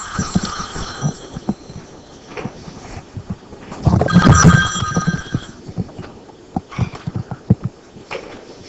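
A mobile phone rings at a pool tournament during a 14.1 straight pool match, a tonal electronic ring rising loudly in the middle amid clacks and scattered room noise.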